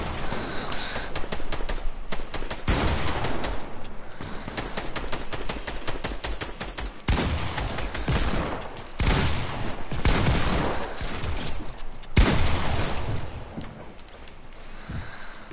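Rapid, sustained gunfire in a shooter game rattles on in long clusters of close, crisp shots, with brief pauses between volleys.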